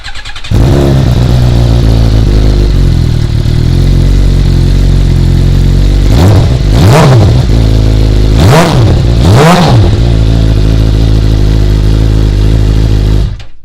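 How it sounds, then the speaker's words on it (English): A Suzuki GSXR motorcycle with custom fat tire, red paint and custom exhaust idles loud and close after a cold start, a deep steady rumble with three sharp throttle blips rising and falling midway. "let's do a sound check on a cold start on this Gsxr"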